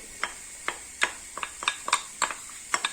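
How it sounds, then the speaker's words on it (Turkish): Mushrooms dropping into a dry cast iron pan with no oil, making a quick run of sharp separate taps and light clatters over a faint steady hiss, without talk. "Şimdi mantarlarımızı alıyoruz. Bakın tavada yağ yok, herhangi bir şey yok. Ve şöyle döküyorum ben bunları."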